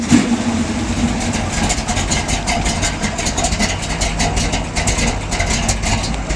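Close up, the altered 351 V8 in a 1987 Ford Bronco with an Edelbrock intake idles with a choppy, loping rumble that sounds almost like a misfire, steady and loud, alone without voices.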